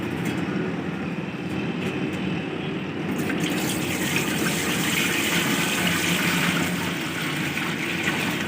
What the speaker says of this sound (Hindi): पतीला चढ़ाएंगे चूल्हे पर और इसमें 15 लीटर पानी डाल देंगे।